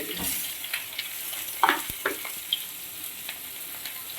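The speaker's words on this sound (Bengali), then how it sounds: "এবার বেগুনগুলো ভেজে নিচ্ছি লবণ হলুদ দিয়ে দেবো" Eggplant slices fry in oil seasoned with salt and turmeric, giving a soft, steady sizzle with scattered sharper crackles and pops, close by and alone.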